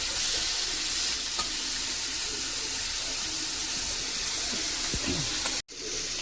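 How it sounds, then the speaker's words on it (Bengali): Prawns frying in a pan for a Bengali prawn curry, a steady broadband sizzle with occasional stirring scrapes, close and continuous, with a brief dropout near the end. "চিংড়ি মাছটা একটু ভেজে নেব ভালো করে।"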